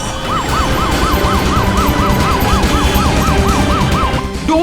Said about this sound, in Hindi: जल्दी से एम्बुलेंस मंगाओ जल्दी